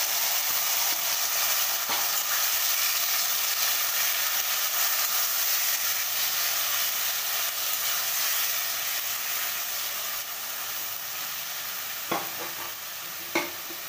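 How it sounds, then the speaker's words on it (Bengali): Taro leaves are stirred and fried in a hot pan with asafoetida, making a continuous close sizzle and hiss. A few sharp spatula scrapes come toward the end. "এবার ভালো করে একটু নাড়াচাড়া করে নেব।"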